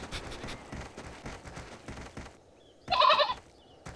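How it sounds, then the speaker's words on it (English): A mother goat bleats in a short, loud burst near the end, calling once after a stretch of busy background sound and a brief quiet gap. "It's a mother goat with her children."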